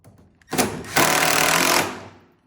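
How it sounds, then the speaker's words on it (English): Milwaukee power drill driving screws while building a cart cabinet with casters: a short close whir, then a louder, steady motor run of nearly a second that stops abruptly. "Here's the light from my Milwaukee drill."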